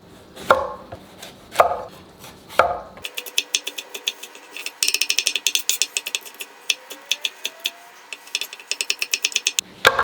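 A knife chops bell pepper on a cutting board, first a few heavy separate strikes, then a fast, steady run of crisp taps, close and loud.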